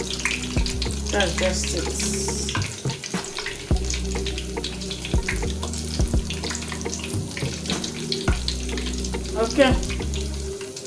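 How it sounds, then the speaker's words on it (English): Dough for puff puff or chin chin frying in hot oil, a steady dense sizzle running throughout with occasional stirring clatter and running water, while someone talks briefly over it. "Just want to fry it till the sides are golden brown"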